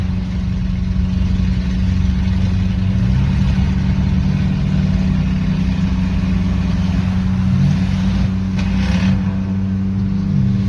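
A Ford Crown Victoria fitted with a 460 engine cruising slowly at about 22 mph, a steady, loud, low engine drone with shifting rumbling tones throughout and no talk.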